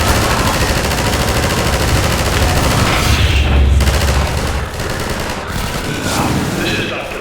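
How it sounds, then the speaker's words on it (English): Rapid gunfire fills a Half-Life 2 Episode Two battle, dense bursts of automatic shots with booming impacts, loud and continuous before easing slightly near the end. "Just keep firing."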